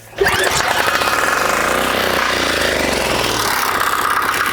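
A diesel vehicle engine cranks and catches, then settles into a loud, close, steady idle with an even knocking rhythm that continues to the end.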